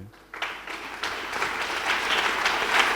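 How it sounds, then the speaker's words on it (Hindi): A church congregation at a prayer service breaks into clapping that starts abruptly and builds into steady, dense applause, fairly loud and close throughout. "प्रभु की महिमा के लिए ताली बजाइए।"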